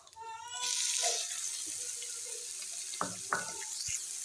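Chopped onion goes into a pan of hot oil with cumin and carom seeds for aloo paratha, bursting into a loud, steady sizzle, with a couple of brief clatters of stirring.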